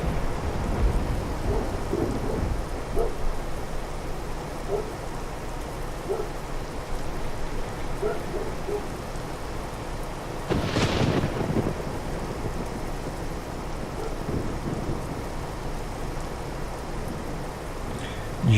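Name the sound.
rain and thunder in Euro Truck Simulator 2 video game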